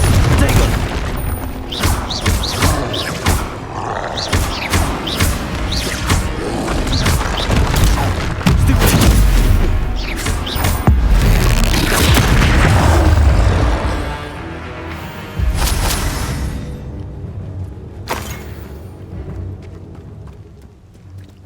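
Spell explosions from Confringo and other blasting spells in Hogwarts Legacy, a loud run of booming bursts and crashes in dense clusters over game noise, easing after the midpoint with a few isolated blasts near the end.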